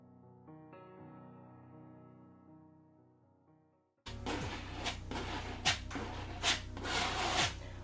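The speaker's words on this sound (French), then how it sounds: "à l'aide de mon grand couteau, poser la peinture au centre de la toile" A large palette knife spreads white paint across a canvas in a steady close rasping scrape, following a quiet stretch of soft sustained tones.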